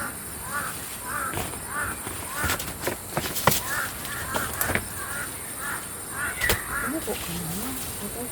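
Crows cawing from a tree near a freshly harvested corn field, several short harsh calls repeating at moments over a steady outdoor hum, with people talking in the background.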